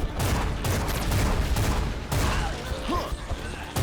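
An exploding enemy in the video game Bloodshed goes off amid dense, continuous gunfire and crackling blasts, loud and busy throughout with a sharp burst near the end.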